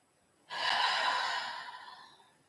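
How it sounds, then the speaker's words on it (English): One deep breath during a gentle yin yang yoga class, a soft airy inhale and exhale lasting about a second and a half, close and fading gradually in a quiet room. "Take deep breaths in through the nose and let them go through your mouth."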